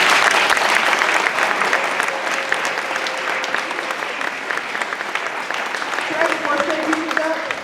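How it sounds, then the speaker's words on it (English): A school audience applauds at an elementary fourth-grade recorder showcase, a full round of clapping that starts strong and gradually thins, with a few voices talking near the end. "Let's give him one more round of applause."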